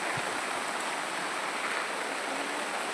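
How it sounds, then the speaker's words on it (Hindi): Heavy, sudden rain pours down in a steady, dense hiss that fills the whole stretch without pause, loud and close with no voices. "वो बारिश देखो गाइस कितनी तेज आ गई"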